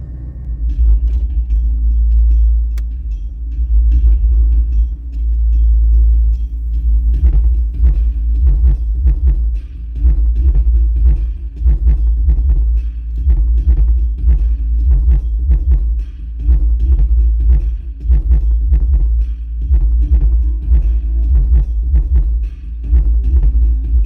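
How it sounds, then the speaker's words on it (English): Loud bass from a truck's speaker system shaking the vehicle, a deep continuous throbbing rumble with rhythmic pulses and rattling vibration running steadily throughout, heavy and close. "it's just the truck vibrating. It's distorting the speaker, but the bass is very clean."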